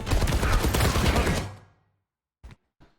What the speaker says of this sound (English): There is a soldier top right shooting at their team